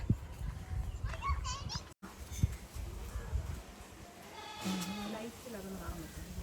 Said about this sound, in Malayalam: സിരോഹിയാട് ജമുന പ്യാരി ഭംഗി നോക്കിയേ